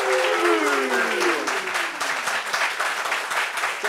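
An audience at a ceremony for a graduating class of the national youth and sports institute claps in dense, sustained applause, loud and close, with a voice speaking over the clapping.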